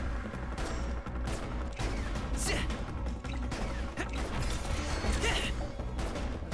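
A stolen gun firing in Final Fantasy XV, a rapid volley of sharp shots and crashing impacts with clattering hits, loud and sustained throughout the clip.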